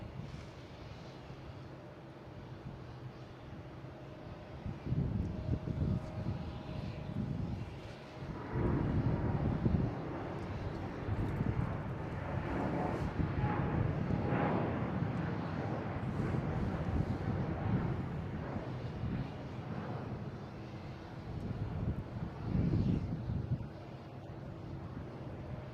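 A Swiss airliner taking off at Boston Logan International Airport, a broad roaring jet rumble that swells from a low wash and holds steady for much of the time, with wind buffeting the microphone.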